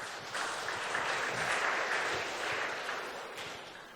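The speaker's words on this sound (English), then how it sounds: "Let's give them a round of applause" An audience at a youth oratorical contest applauds steadily for several seconds, a dense wash of clapping that fades slightly toward the end.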